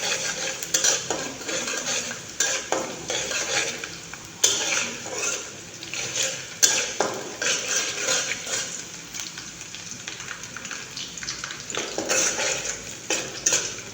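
Garlic frying in oil in a home kitchen: a steady close sizzle with frequent scraping and clattering as a utensil stirs the pan, continuing throughout.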